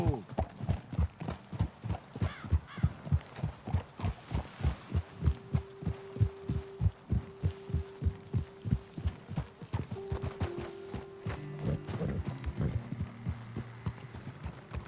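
Horses' hooves clip-clop in Red Dead Redemption 2, a steady, close rhythm of thudding steps that slows and fades as a low hum and voices come in.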